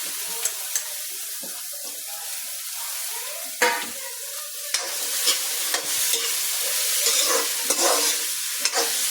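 Shallots and onions go into a hot pan for beef fry, giving a close sizzle mixed with repeated scraping stirs and sharp clatters; wet splashy bursts cut through, and the sound grows busier toward the end.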